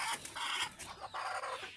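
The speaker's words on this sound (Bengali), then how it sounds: "এখন ঘরের মধ্যে একটা মুরগি দেখছি বাতে বসে আছে" A native hen sitting on eggs inside its coop gives soft, close clucks in a few short bursts, with no voices.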